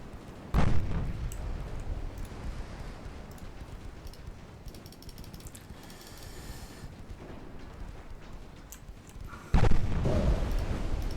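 A homing torpedo strikes the Italian ship Bologna in a naval strategy game: a sharp close impact followed by a long rumbling wash of explosion and water noise, then a second heavy blast near the end.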